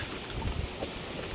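Rain and gusting wind in the Sundarbans mangrove forest, heard from a fishing trip on the water under cloudy, stormy weather, a steady low rumbling wash with no talking.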